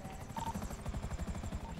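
A helicopter in the game GTA gives a quiet, steady rotor chop with fast rhythmic thumping, heard faintly in the background.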